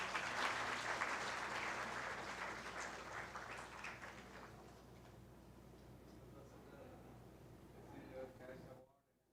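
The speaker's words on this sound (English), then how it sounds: "Please give them a huge round of applause" An audience at an Engineer's Day award ceremony at Central University of Rajasthan applauds the winners. Dense clapping is loudest at the start, thins gradually over several seconds and then cuts off abruptly.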